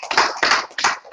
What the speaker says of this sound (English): let's start off by giving yourselves a round of applause